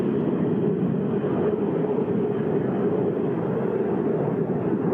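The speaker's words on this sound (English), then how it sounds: "the T-33 T-33 breaks away for some aerobatic maneuvers now" Lockheed T-33 jet flying aerobatic maneuvers at the Selfridge open house and air show, a steady loud broadband engine roar that holds without pause throughout.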